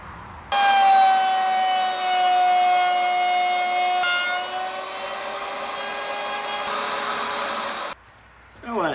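A router table with a 3/8 inch bit makes a half-inch-deep cut in a clamped wooden board, giving a steady, loud, high motor whine that holds for about seven seconds and then cuts off abruptly.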